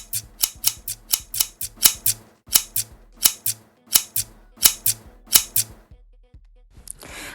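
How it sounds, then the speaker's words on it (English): Sharp, crisp scissor snips trim the ends of natural hair, about a dozen close clicks in a quick uneven rhythm, then a brief quiet stretch. "we gonna have to go ahead and trim them ends"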